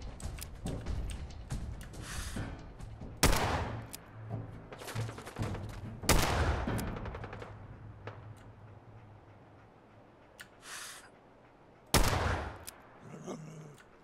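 Sniper fire from a Super Mutant Brute in Fallout 4 cracks out as several sharp, loud reports spaced irregularly seconds apart, each trailing off into a distant echo, with quieter game ambience between shots.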